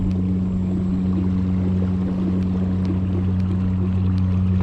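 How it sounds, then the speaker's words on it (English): Minn Kota trolling motor mounted at the front of an Ascend 133X boat, running as a steady low electric hum with a constant tonal drone and water noise, close and unbroken throughout. "This is the trolling motor in the front"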